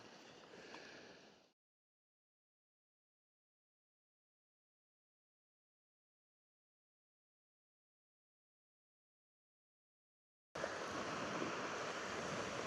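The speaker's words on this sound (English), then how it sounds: "The sea is just idly rolling in." Sea waves roll idly onto a shore in rain, a soft broadband wash that fills the opening second and a half, drops to total silence, then returns steady and closer for the last couple of seconds.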